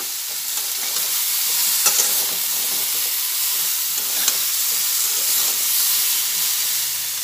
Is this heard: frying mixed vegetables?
yes